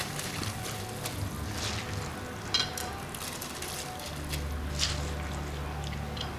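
Rice poured into a pot of cooked mutton for biryani sets off a busy sizzle and wet bubbling, with a few sharper scraping or splashing bursts and a low hum under it, close by and without talk.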